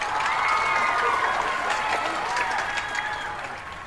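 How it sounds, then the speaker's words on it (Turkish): Studio audience on a Turkish television game show breaks into applause, a dense, steady wash of clapping that holds loud for several seconds and then begins to ease off toward the end, with crowd murmur woven in. "Bir alkış alalım."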